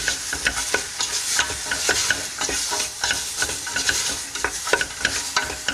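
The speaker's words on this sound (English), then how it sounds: "I need to keep stirring this." Harira soup stirred in a pot with about half a cup of olive oil, a spoon scraping and knocking in a quick repeated rhythm over a soft continuous sizzle of frying, close and alone with no talking.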